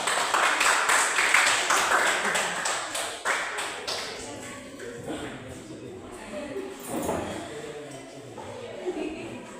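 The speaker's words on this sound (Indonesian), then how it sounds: "Berikut kita sambut kelompok 3 dengan tepuk tangan." Classroom of pupils clapping to welcome a group forward, a busy burst of many hands in the first few seconds that thins and fades, with a voice speaking briefly in the later part.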